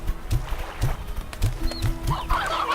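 Chickens in the video game Slime Rancher cluck in short, regular clucks about every half second, moderately loud, with a brief higher squawk near the end and no talk.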